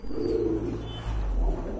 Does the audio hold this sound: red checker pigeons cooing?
yes